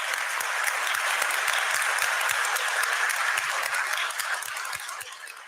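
Audience applause at a debate, a thick spread of clapping with some distinct individual claps near the listener, steady then easing off toward the close.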